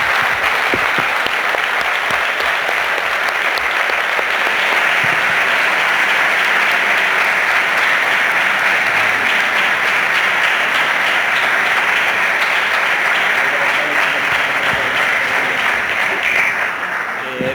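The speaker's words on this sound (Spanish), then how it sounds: "yo os pido un fuerte aplauso para Jorge, para Calero" Loud, sustained applause from a seated audience at a talk on Valladolid's car industry, a dense unbroken wash of many hands clapping close by for about seventeen seconds.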